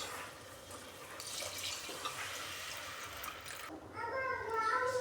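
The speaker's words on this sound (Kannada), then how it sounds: "ನಾವು ಅಕ್ಕಿಗೆ ಅಳತೆ ತಕ್ಕನಾಗಿ ನೀರು ಹಾಕೊಳ್ಳೋಣ" Water pours steadily from a vessel into a pot of rice fried with masala for Karnataka-style tomato bath, a continuous splashing stream at close range with faint background voices.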